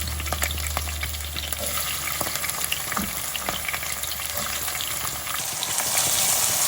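Onions and green chillies fry in hot oil in a pan with curry leaves, giving a steady close sizzle with stirring scrapes throughout and a brighter hiss building toward the end.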